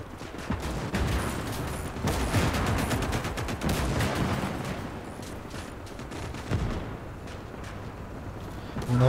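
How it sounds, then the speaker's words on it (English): Artillery shelling a KV tank in the World War II strategy game Gates of Hell, heard as a dense, continuous barrage of booms and gunfire with several sharper blasts standing out, loud throughout. "So the artillery working on it."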